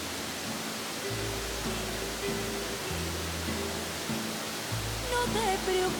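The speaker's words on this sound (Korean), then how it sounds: "원시림 사이로 흐르는 폭포가 시원하다." Steady broadband roar of a waterfall in Mexican primeval forest with low tonal music underneath, continuous and even throughout.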